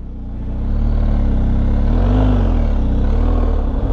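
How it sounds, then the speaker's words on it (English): A motor vehicle rolls past on a dirt road in the Mohican area of Ohio, its engine rising to a steady loud drone that peaks mid-pass and then fades slightly, with crunching road noise underneath. "Wow, a lot of traffic back here today."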